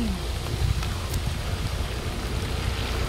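Steady rain falls outdoors as a broad, continuous hiss with wind buffeting the microphone, no voices breaking through.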